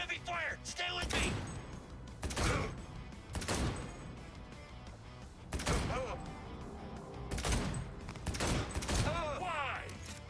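Heavy gunfire erupts in Cyberpunk 2077, repeated loud bursts of shots and automatic fire arriving in irregular clusters with gaps between, mixed with combat voices shouting over the din.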